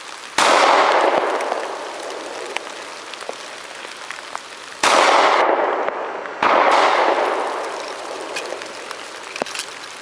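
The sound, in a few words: pistol firing reloaded ammunition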